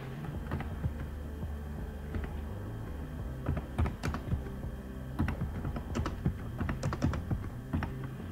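Keys on a computer keyboard tapped in short irregular runs while entering values in Photoshop, close and moderately quiet over a steady low room hum.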